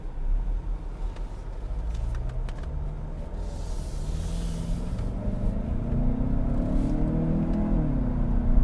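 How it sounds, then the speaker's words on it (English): A 2020 Lincoln Nautilus four-cylinder direct-injection engine hums steadily and then revs, its pitch climbing gradually toward the end with a low rumble underneath. "But this 4-cylinder does not sound that bad."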